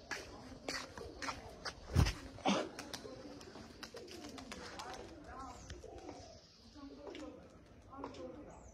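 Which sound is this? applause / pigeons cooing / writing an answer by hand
pigeons cooing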